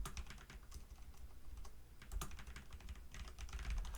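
Someone types on a computer keyboard in quick, uneven bursts of close, soft key clicks, steady for a few seconds with brief pauses and no talking.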